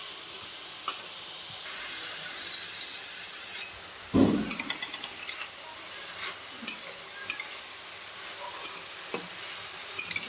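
Grated carrot halwa being sautéed and stirred in a pan: a soft, steady sizzle with occasional clinks and scrapes of a spoon against the metal, one louder stirring scrape near the middle, no talking.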